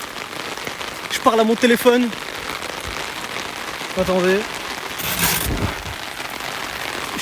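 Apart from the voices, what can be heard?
rain falling while walking outside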